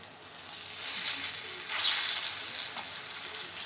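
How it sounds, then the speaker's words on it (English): Sweet ripe plantains fry in a pan with a steady close hiss and sizzle, swelling briefly toward the middle. "So we're frying up these plantains."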